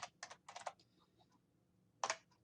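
Keys on a computer keyboard are tapped while entering numbers into a table, the tab key among them: quick close clusters of light plastic clicks, then a pause and one more short burst, with no voices.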